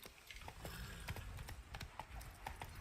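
Horse hooves clip-clopping in the video game Witcher 3: Blood and Wine, a quiet rapid irregular stream of hoof knocks at a trot, repeating throughout with no voices.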